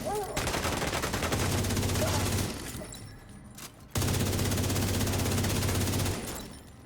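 Rifle fire in a video game rings out in two long, loud automatic bursts with heavy recoil, split by a brief lull. The shots are rapid and dense, a steady stream of reports.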